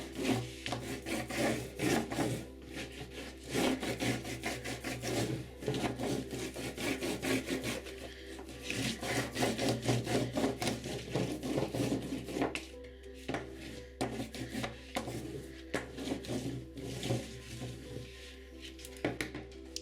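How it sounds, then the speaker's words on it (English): Paint is rubbed away from a painting's background in a continuous dry, rasping scrub of cloth or paper on canvas, close and steady for the whole stretch, with no talk. "I'm going to start rubbing a few bits away so that you can still see some of the gorgeousness."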